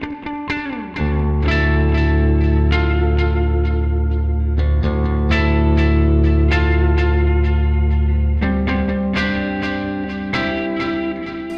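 Electric guitar riff played through a Mooer GE150Max with Klon-style overdrive and delay, loud distorted chords struck in a driving rhythm with echoing repeats trailing each hit, no talking.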